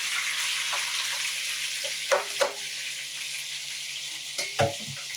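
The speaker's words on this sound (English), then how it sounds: "the shrimp is in the wok" Shrimp frying in hot oil in a wok for shrimp lo mein, with a steady broadband sizzle throughout and a few sharper spatters and stirring bursts near the end, close and moderately loud.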